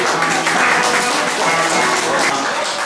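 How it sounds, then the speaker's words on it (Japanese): A live audience bursts into applause, dense and loud clapping close by that holds steady throughout the short stretch, with faint voices mixed into it. "大きな拍手がいただけると嬉しいですね"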